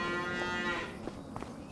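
A cow in the video game Farming Simulator 25 gives one long, drawn-out moo that fades out, followed by faint soft knocks and shuffles, fairly quiet with no talking.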